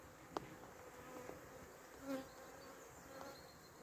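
A swarm of honey bees buzzes outdoors in midweek, a faint steady insect drone with a few brief louder passes close by, over a quiet background and with no talking.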